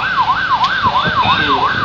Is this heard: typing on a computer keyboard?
no